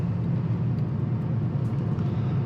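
A 1986 Chevy K10 square body pickup truck cruising down the road, its engine giving a steady low rumble with road noise that holds even and unbroken throughout, with no talking.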